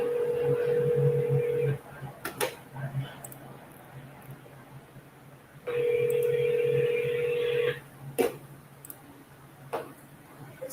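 A phone call is dialed and rings on the line. Two long ringback tones separated by a pause are interspersed with short clicks and taps, and people talk faintly around them.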